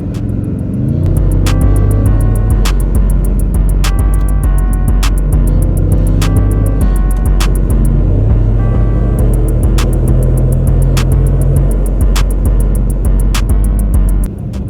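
A Dodge Hellcat accelerates hard in Dubai, a loud, close engine roar that climbs in pitch through repeated rising sweeps as it pulls through the gears, with no voices.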